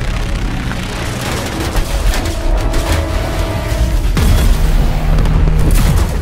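Missile strikes explode during a cutscene in The First Descendant, a continuous barrage of heavy booms and rumbling blasts, loud and dense, swelling further toward the end with a sharp impact midway.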